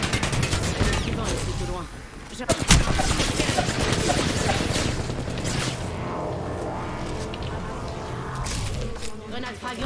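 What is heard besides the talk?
gunfire in a video game shooter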